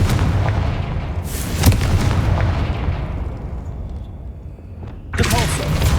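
Confringo blasting-spell explosions in Hogwarts Legacy come as a loud boom, a softer blast midway and another burst near the end, with a rumbling low tail under each.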